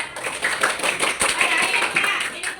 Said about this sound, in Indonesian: tepuk tangan buat Dedang